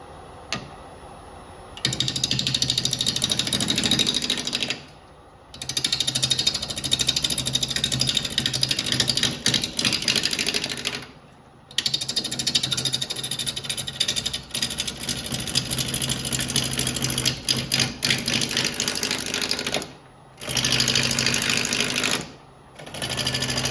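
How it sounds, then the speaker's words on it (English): A wood lathe spins a cherry bowl blank at about 700 RPM while the corners are cut off, a loud steady motor whine broken into several bursts separated by brief near-silent pauses. "We'll start turning at about 700 RPM on this"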